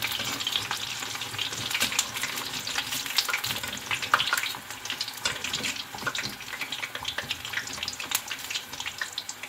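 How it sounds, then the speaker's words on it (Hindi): Dahi bhalla lentil dumplings frying in hot oil, a constant crackling sizzle with bursts of popping and bubbling, close up and without speech. "देखिए भल्ले हमारे फ्राई हो गए हैं।"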